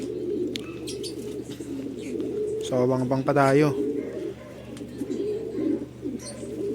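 Racing pigeons coo in soft, low repeated calls nearby during a pigeon race lap in Calbayog, Samar, with someone talking over them and a brief burst of other voices partway through.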